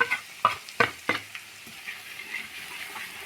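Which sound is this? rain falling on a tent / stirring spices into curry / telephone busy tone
stirring spices into curry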